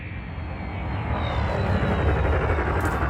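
Spaceship thrusters throttling down in Elite Dangerous, a steady low engine roar that swells slightly and holds, continuous and close with no voices.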